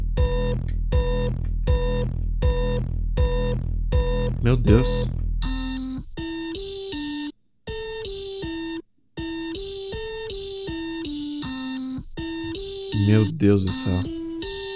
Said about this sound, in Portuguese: Parece um alarme tocando.